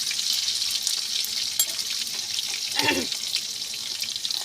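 Onion fries in a hot pan with a steady bright sizzle, close and fairly loud, broken by a brief scrape of stirring near the middle.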